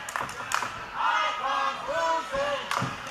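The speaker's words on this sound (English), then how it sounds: "Chanting Icon's losing." Wrestling crowd at a live match chanting in unison, a rhythmic call of several syllables repeated over and over by many voices in a hall, loud and steady with a few claps and thuds around it.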